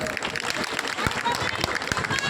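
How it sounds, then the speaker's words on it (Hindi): Audience clapping at a Raksha Bandhan gathering addressed by a Delhi MLA, a dense steady patter of many hands with voices mixed in throughout. "ताली तो बजा लो"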